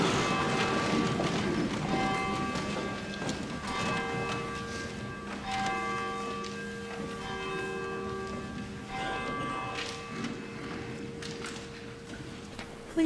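A church bell rings repeatedly at a Christmas Eve service, with long, ringing overtones that overlap and sustain, steady and fairly loud, with no talking.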